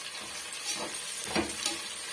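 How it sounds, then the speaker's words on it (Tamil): Onions sauté in a pan for mutton biryani, making a soft, quiet sizzle with a few brief stirring scrapes. "இப்போ வெங்காயம் முழுமையாக வதங்கி வரட்டுங்க"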